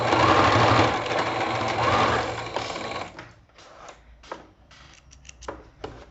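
A sewing machine stitches bias binding onto fabric in a close, loud burst of rapid whirring, then slows to short, stop-start runs of stitching with pauses between them.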